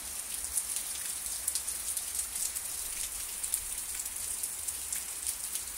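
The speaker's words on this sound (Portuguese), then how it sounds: "É muita chuva." Heavy, steady winter rain falling with no wind, a continuous dense hiss scattered with close droplet patters, with no talking.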